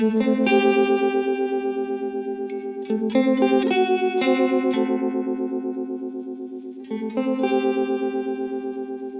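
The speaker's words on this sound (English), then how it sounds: "the type of effect is going to add some motion and movement to the sound" Electric guitar chords through a Helix with a throbbing, wavering modulation effect, struck a few times and left to ring, each pulsing rhythmically as it fades.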